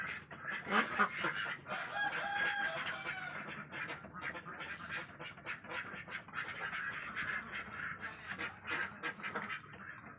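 A flock of four-month-old ducks quacks continuously, many overlapping calls close by with steady busy chatter and no talking.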